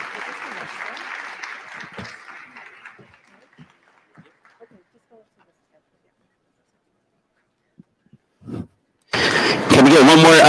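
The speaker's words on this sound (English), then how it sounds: "Can we get one more round of applause, please, for Rachel?" Audience applause at a staff day summit, loud clapping that fades out over several seconds into near silence, followed by a voice starting to speak.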